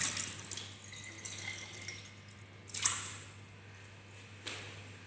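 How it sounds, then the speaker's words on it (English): Liquid from an alkalinity lab experiment poured into a sink and rinsed away: quiet trickling and dripping with two brief louder splashes, faint and close, no talking. "Now pour this in the sink and wash that thoroughly."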